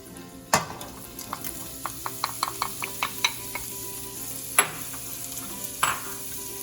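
Onion fries in about a tablespoon of oil in a pot, a low steady sizzle with a quick run of light spatula taps and a few louder scrapes.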